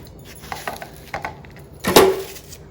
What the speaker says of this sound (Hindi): और आधी प्याज मैं इसमें डाल रही हूँ